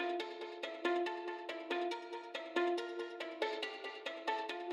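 Plucked string layer for a UK drill beat, short bright notes in a steady bouncing melodic pattern, clean and fairly quiet, played alone.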